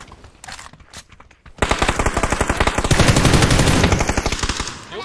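Rapid automatic gunfire in a first-person shooter video game, starting with a few scattered shots and then a long, loud, continuous burst of close machine-gun fire.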